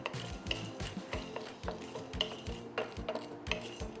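Urad dal and dried red chillies frying lightly in a pan for a South Indian fenugreek kuzhambu, with a spoon scraping and clinking against the metal in a steady, repeated rhythm over a soft background crackle.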